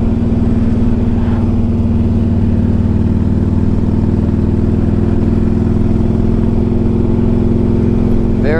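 A 2003 Harley-Davidson Electra Glide Ultra is ridden on the road. Its V-twin engine drones loud and steady at close range, with a constant low throb and faint wind rush, and a brief rise near the end.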